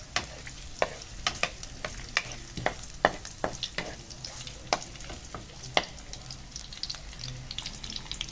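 Ginger being sautéed in a pan for a Kapampangan home dish, steady sizzling broken by sharp, repeated scrapes and clacks of a spatula stirring, close and with no voices.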